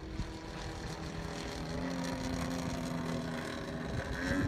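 Vertigo 2M model airplane motor being run in gently on its maiden flight, a steady droning buzz that swells slightly toward the end, heard from a distance outdoors.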